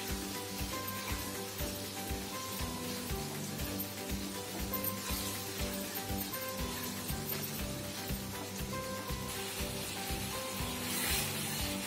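Masala for paneer butter masala fries in a pan, giving a steady, moderately quiet sizzle with faint stirring scrapes that carries on continuously without any speech.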